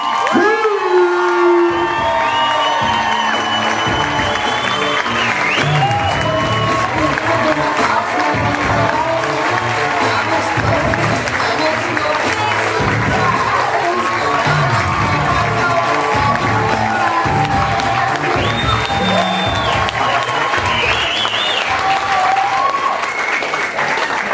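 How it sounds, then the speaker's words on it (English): A comedy club audience at a stand-up show claps and cheers loudly and continuously, with whoops and shouts rising over dense applause throughout. "Please start clapping, start cheering, and welcome to the stage"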